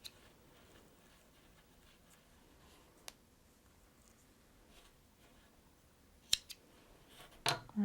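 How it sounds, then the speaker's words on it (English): Scissors trimming fly-tying material, a few faint, sparse snips against a quiet background, with a couple of soft clicks and handling noises near the end. "I'm going to go ahead and trim."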